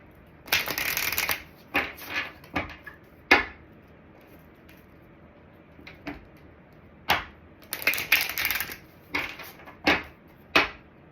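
Advice cards are shuffled by hand for a Gemini card reading, in several crisp riffling bursts separated by short quiet gaps, close and clear.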